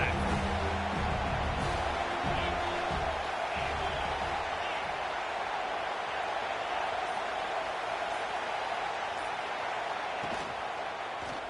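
A large football stadium crowd roars in a continuous, dense wall of cheering during a third-down red zone play in a Bama vs USC game, loud and sustained throughout with faint voices mixed in.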